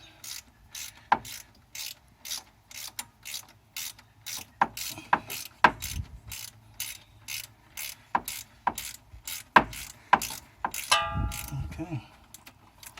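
A ratchet with socket and short extension turns a thermostat housing bolt on a 2000 Jeep Wrangler Sahara, giving a long run of close, crisp clicking strokes in regular bursts with occasional louder clanks, and no speech.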